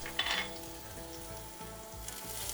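Garlic hits a small amount of hot oil in a wok for homemade fried rice, giving a steady close sizzle with a brighter crackling burst at the start and faint stirring clatter underneath, no talk.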